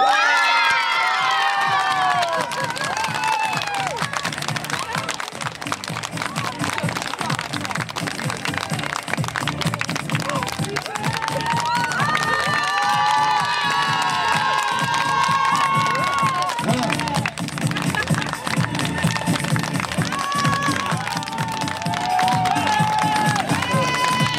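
A pageant crowd cheers and applauds for the winning Miss Ile de Noirmoutier 2011 contestant, Orlane Thibault, loud and sustained throughout, with shouts and children's voices rising over steady clapping.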